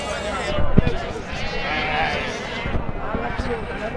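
Goats bleat several times amid a busy outdoor goat and sheep market in Nallapadu, Guntur, with people talking nearby and general crowd bustle underneath.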